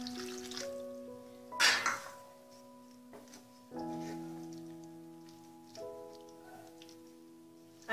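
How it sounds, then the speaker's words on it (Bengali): Water poured into a cooking pot of raw jackfruit and prawns: a faint, brief splash and pour, followed by soft drips and a low ringing hum from the pot. "জল অ্যাড করলাম।"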